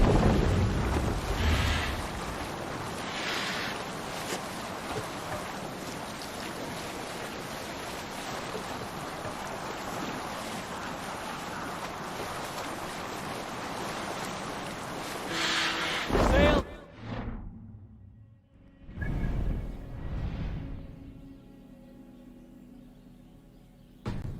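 A sailing ship under sail in the video game Assassin's Creed: steady wind and rushing water surge loudly for a long stretch, then drop away to quieter splashes while voices speak.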